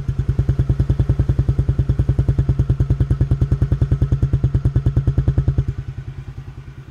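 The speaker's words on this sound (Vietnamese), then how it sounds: "Là cái tiếng máy đặc trưng như vậy." Close, loud, even chugging pulses come from the original engine of a Suzuki FX 125 motorcycle as it runs at idle. The beat softens and slows in the final second, with nobody speaking.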